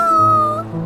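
A cat gives a single short, close, loud meow that slides downward and fades out in under a second, with no other sound around it.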